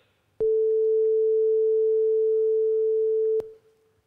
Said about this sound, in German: nämlich einen Sinus, einen einzelnen Ton.